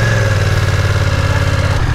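A 2020 BMW F900R motorcycle engine running, a loud close throbbing rumble with a rapid steady pulse that sags slightly near the end, with no voices.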